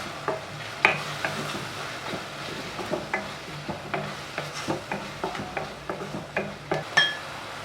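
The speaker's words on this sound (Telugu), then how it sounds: "కొరియాండర్ పేస్ట్ని కూడా కొంచెం పచ్చి వాసన పోయేంత వరకు వేయించుకోవాలి." Spoon stirring coriander paste as it fries in a pan, with a soft sizzle under repeated scraping strokes and occasional clinks against the metal, close and moderately quiet.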